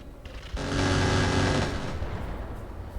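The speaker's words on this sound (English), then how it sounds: "that was the missile rack, and it hit" A missile rack fires and strikes a target in Roguetech, a BattleTech mod, a sudden rumbling roar of launches swelling to a dense sustained blast, then a long, slowly fading rumble.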